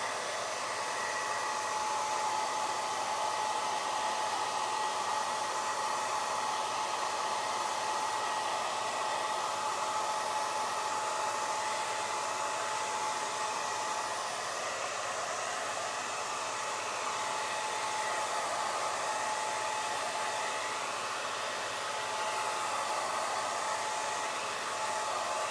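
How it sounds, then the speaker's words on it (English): A hair dryer running steadily on its cool setting over chalk paste, a constant close whooshing blow with a faint high whine, unbroken and alone for the whole stretch. "if you're gonna heat set it on cool with your hair dryer"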